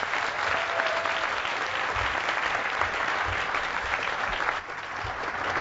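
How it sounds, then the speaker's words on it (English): Sustained applause from an audience at a Curiosity rover Tweet Up event, steady dense clapping across the whole stretch with a few low thumps and no speech over it. "Okay, let's have a big round of applause"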